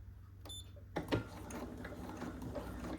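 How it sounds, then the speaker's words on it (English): A sewing machine stitches slowly along a quilt block's marked line, a faint steady mechanical whir with light ticking after a sharp start. "And I sew very slowly, keeping that red line on my stitch line."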